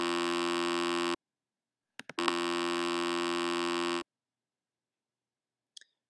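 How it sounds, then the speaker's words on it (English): A LabVIEW program switch triggers a steady electronic beep tone, heard as two long sustained buzzes separated by a short gap with a few clicks, then silence and a faint blip near the end. "let's try the switch for the beep"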